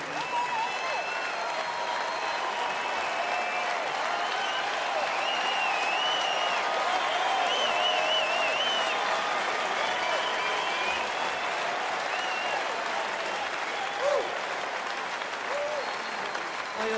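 Sustained applause from a large concert audience at a 40th anniversary jubilee concert in an arena, steady dense clapping throughout with crowd noise and occasional cheering, loud and continuous.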